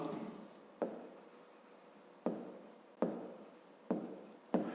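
Pen strokes writing numbers by hand on paper during a fifth-grade math exercise, a quiet scratchy rubbing with five short sharp onsets, each stroke trailing off, close and alone.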